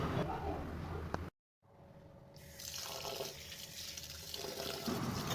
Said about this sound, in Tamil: சேர்த்துட்டு நம்ம ஒரு 3 தடவை நல்லா தண்ணி விட்டு வாஷ் பண்ணி எடுத்துக்கலாம்.